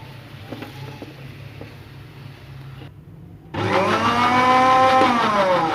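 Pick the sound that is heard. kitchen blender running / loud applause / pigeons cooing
kitchen blender running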